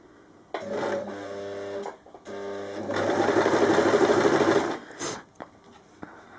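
A sewing machine fitted with a cording foot runs in bursts, starting and stopping with a steady mechanical whir that speeds up in the longest middle run, heard close with no talking.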